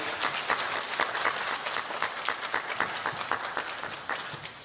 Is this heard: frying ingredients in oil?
no